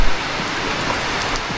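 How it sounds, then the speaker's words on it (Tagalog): Heavy rain pours down steadily, a loud, dense hiss of drops striking surfaces close by, continuous without a break. "Lakas ng ulan."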